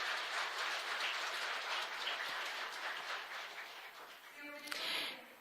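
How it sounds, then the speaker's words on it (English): An audience applauds in a room with a dense, even wash of clapping that runs steadily for several seconds, fairly distant and soft, before thinning out at the end. "And I ask the whole to support with applause."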